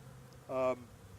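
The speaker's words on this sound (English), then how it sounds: "The bees will ultimately fly out." A short, close buzz of a honey bee flying past, lasting about a quarter second against a quiet background hum.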